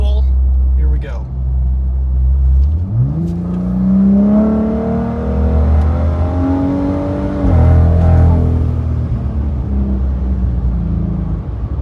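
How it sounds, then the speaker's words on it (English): Heard from inside, a modified Ford F-150 with a 3.5 EcoBoost engine makes a full-throttle pull in normal mode, its loud engine note climbing steadily through a gear change alongside a droning rumble, with people talking over it. "All right, now we're gonna do a normal mode pull."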